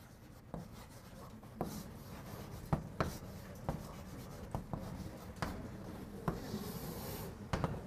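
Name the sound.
writing on a board during a math lesson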